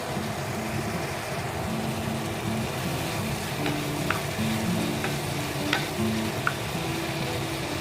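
Spicy garlic shrimp sizzle steadily in a pan while being stirred, with a continuous frying hiss and a few light scraping clicks from the utensil, close and moderately loud with no talking.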